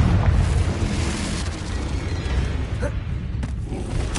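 A Confringo explosive spell cast in Hogwarts Legacy, booming and rumbling through dense, continuous game sound with a few sharper bursts, loud and without any clear speech.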